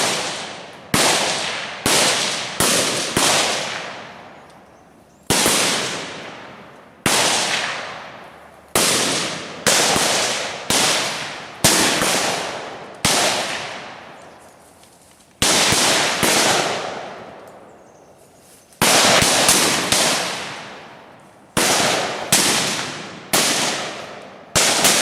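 Gunshots ring out during a tactical assault exercise, a series of loud, sharp single and double cracks, each decaying with a long echo, spaced irregularly across the stretch.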